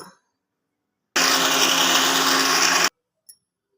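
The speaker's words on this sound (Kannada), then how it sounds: "ಇದಿಷ್ಟು ಮಿಕ್ಸಿಗೆ ಹಾಕಬೇಕು" A mixer grinder whirs loudly for about two seconds grinding garlic, onion, cinnamon and cloves, starting and stopping abruptly, with silence before and after.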